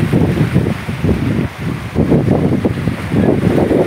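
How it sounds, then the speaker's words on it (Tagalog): Strong sea waves off the Quezon coast between Gumaca and Atimonan surge in a continuous rough roar, with heavy wind buffeting the microphone in pulsing gusts and no talk. "Malakas ang alon."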